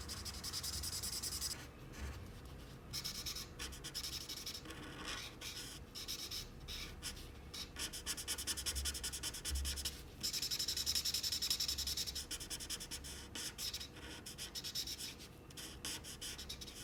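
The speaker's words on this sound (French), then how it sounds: "j'utilise la couleur Pearl White et Touch 5 pour colorier le contenu du verre" Touch alcohol markers colouring on paper make a steady close scratchy rubbing, continuous strokes with short pauses, moderately loud and alone without talk.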